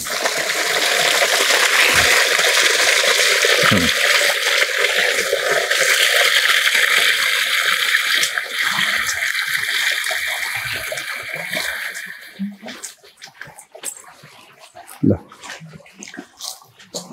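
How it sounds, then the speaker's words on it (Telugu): A borewell pours water in a steady, loud gushing rush that fills the first twelve seconds, then drops away to scattered splashes and trickles as the flow eases. "ఇప్పుడు మాకు వచ్చే ఈ వాటర్ వస్తూ ఉంటుంది, బోర్వెల్ కంటిన్యూగా పోస్తూ ఉంటుంది."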